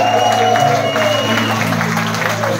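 A concert audience in a live music venue claps and cheers continuously, a dense crowd wash of applause heard close and loud throughout.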